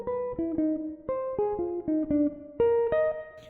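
Jazz guitar plays a slick walk-down line slowly, about a dozen clear plucked notes stepping downward in a relaxed rhythm, close and alone with no talking.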